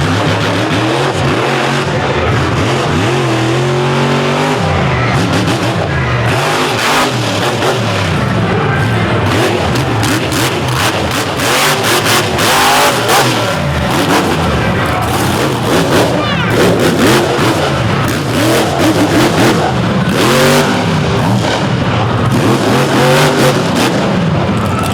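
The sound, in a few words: monster truck engine revving at monster truck show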